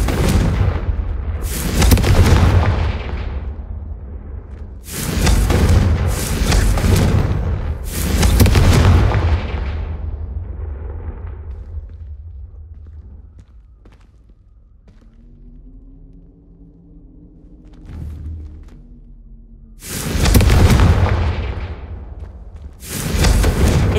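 Repeated Confringo fire spell blasts in the video game Hogwarts Legacy: loud booming explosions in clusters of two or three, separated by quieter gaps with faint magical shimmering tones.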